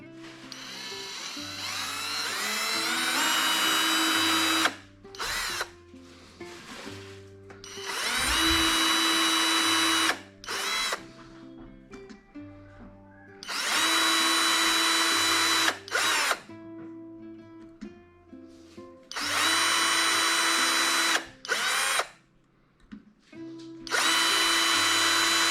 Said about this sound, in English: I'm just going to start drilling to just tap the hole ever so slightly